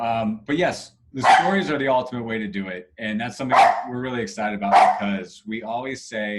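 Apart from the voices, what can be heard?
dogs barking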